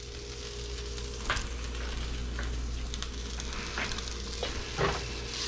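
Shredded potatoes frying in hot oil in a pan, a continuous steady sizzle with a few brief crackles and pops, close and alone without any talking.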